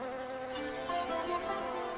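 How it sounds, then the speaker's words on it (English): A bee buzzes steadily near flowers, a soft continuous drone whose pitch wavers slightly over two seconds, faint and close, with no voices. "Look at that bee there."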